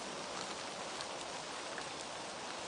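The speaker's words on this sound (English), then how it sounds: "here comes the rain!" Steady rain falls in a continuous hiss, with scattered drops pattering on surfaces nearby, no voices.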